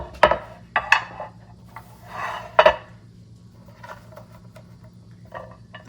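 Blue cheese dressing being spooned into a small dipping bowl and a plate being set up for oven-baked buffalo wings: a few close knocks and clatters of dishware, with soft rubbing and scraping between them.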